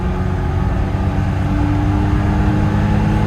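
A 1974 BMW E9 engine runs close by with a steady, rumbling drone and a faint high whine, holding a fairly constant level throughout with no clear rise in revs.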